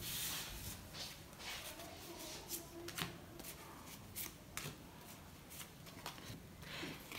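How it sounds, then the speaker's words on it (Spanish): Playing cards are dealt and handled across a tabletop for the board game No Game Over, giving soft repeated rubbing, sliding and flicking sounds against a steady background hiss, close and fairly quiet with no talking. "Se reparte a cada jugador 3 cartas de nivel. Y 3 cartas de ítem."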